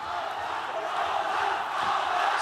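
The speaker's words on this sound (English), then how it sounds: "The crowd here, by far the noisiest they've been all night" Roaring crowd at a mixed martial arts main event, a loud continuous swell of cheering and shouting that builds slightly toward the end, with no single voice standing out.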